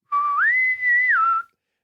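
A person whistles to imitate the little whistle of a starship's ship-wide intercom: two clear, rising and falling tones, close and loud, lasting just over a second.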